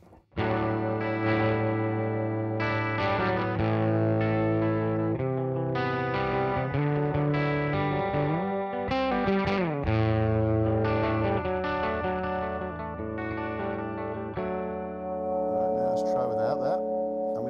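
Distorted electric guitar chords and notes played through an Albion TCT-35C amplifier with chorus-like shimmer, continuous and fairly full, with some pitch bends.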